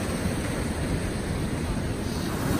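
A small waterfall in a river during a herring run, water pouring steadily in a dense, loud, unbroken wash that fills the whole stretch, with no talk over it.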